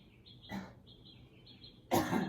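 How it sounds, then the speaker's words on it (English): Two short coughs, a light one and then a louder, fuller one, with a thin high whistling tone in the quiet between. "I had to cough a little bit there"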